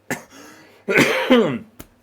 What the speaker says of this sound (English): coughing away today, and I can't edit, so sorry about that